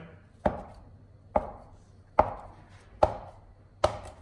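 A knife chops rolled-out corn dog dough into pieces on a board, five crisp, evenly spaced cuts about a second apart, close and clear with no talking.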